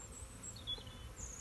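Honey bees buzzing around a Mini-Plus mating nuc, a faint, low steady hum close by with occasional higher whining passes of individual bees, no talking.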